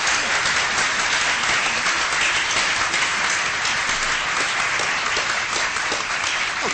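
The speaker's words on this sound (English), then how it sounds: "I just thought we should have a round of applause for Jack and Riva." A full room gives a round of applause at a constitutional discussion event, with thick, sustained clapping from many hands at an even, loud level for nearly seven seconds.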